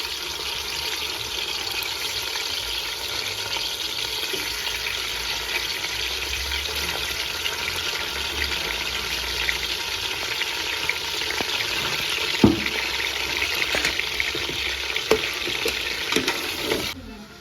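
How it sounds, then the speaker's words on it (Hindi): One kilo of chicken frying in a pot for nihari, a constant close sizzle with intermittent stirring scrapes and a sharp clank late on, with no talking. "तो चिकन जो है हमारी फ्राई हो गई। कम से कम मैंने 3 से 4 मिनट इसको भुनाई की है।"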